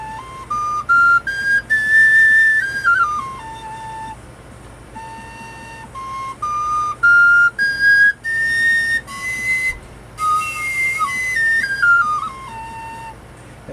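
Handmade Native American flute played solo, clear breathy whistle-like notes stepping up and down in short melodic phrases with brief pauses between, close and fairly loud.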